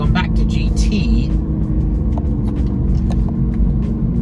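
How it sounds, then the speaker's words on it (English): Loud 2025 Aston Martin Vanquish engine roaring steadily while driving, a continuous low rumble filling the cabin with occasional higher mechanical rattles, and someone talking over it. "I'm having to talk quite loud over the car. It's pretty noisy."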